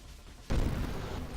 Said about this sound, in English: Oh yeah, look at all those tiny explosions.